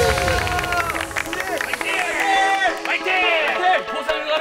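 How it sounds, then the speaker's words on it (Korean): A studio audience claps and cheers loudly for a military comedy show's next stage act, a father-and-son performance, with dense clapping and excited shouting voices running throughout. "박수와 함성"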